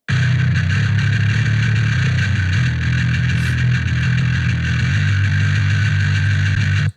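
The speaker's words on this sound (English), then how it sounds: "we ended up going with the Mesa Boogie Carbine M6 amp into a IR of a Mesa Boogie Powerhouse cabinet" Distorted bass guitar tone through a Mesa Boogie Carbine M6 amp into a Mesa Boogie Powerhouse cabinet impulse response, a dense, loud, sustained growl with heavy low end and gritty upper harmonics, playing alone.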